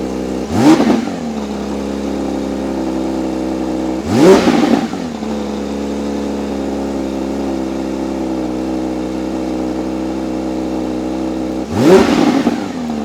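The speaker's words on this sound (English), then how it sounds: "now let's get a cold start and take it out for a drive" A Porsche 992 GT3 Touring's engine fires up from a cold start and settles into a steady high idle, with three separate loud revving bursts rising above the droning idle.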